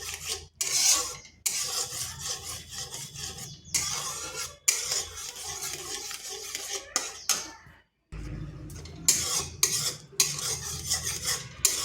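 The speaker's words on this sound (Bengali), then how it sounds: "এবার আবার অনবরত নাড়তে হবে যতক্ষণ না চিনিটা গলে যাচ্ছে।" A carrot mixture with sugar stirred in a pan over low heat, giving repeated close scraping and clinking of a spoon against metal in bursts with short pauses.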